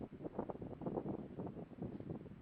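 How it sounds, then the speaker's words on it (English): Strong night wind in the desert buffets the microphone in continuous low gusts, rising and falling without pause, with no voices present. "This is one of those terribly windy nights"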